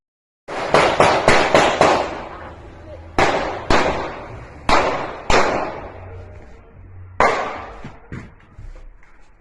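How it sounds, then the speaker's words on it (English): Gunshots fired by a gunman on a dirt bike into a parked vehicle, caught on street surveillance: a rapid cluster of sharp, loud bangs, then several more single shots spaced out, each with a short echoing tail. "Surveillance video obtained by 6 ABC shows the moment a gunman on a dirt bike fired shots into this vehicle"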